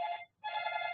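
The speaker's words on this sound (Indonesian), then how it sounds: "Sebentar, saya ada telepon." A telephone rings with a bright electronic tone in two bursts separated by a short gap, clear and fairly close.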